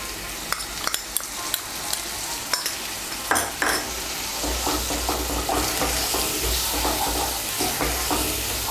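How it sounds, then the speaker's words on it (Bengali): A spoon stirs spice paste into bitter gourd curry frying in a pan, with scattered metallic scrapes and clinks over a steady close sizzle that grows fuller partway through. "গুঁড়ো মশলাগুলো মিশিয়ে নেব।"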